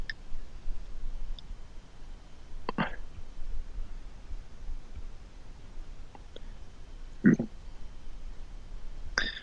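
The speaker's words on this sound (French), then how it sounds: "Là, on entend le crissement de la feuille de mylar qui empêche la résine de couler de l'autre côté." Sparse crinkly clicks and crackles, a few sharper ones, spaced irregularly against quiet background hiss, as a mylar sheet is pressed over resin during a kitesurf board insert repair.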